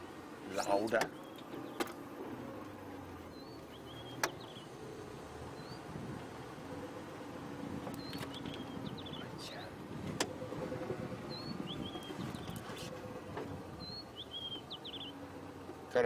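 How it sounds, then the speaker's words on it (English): Wild birds call in the Sabi Sand bush at sunset, thin chirps and short whistles scattered across the clip, fairly faint and distant over a low vehicle rumble, with a few sharp knocks and clicks nearby. "Bird calls are getting louder."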